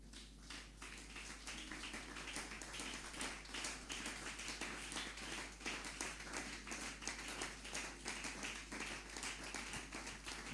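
Congregation in a church applauding and acclaiming the Lord, a steady dense patter of many hands clapping throughout, heard from some distance and fairly faint, with no clear speech.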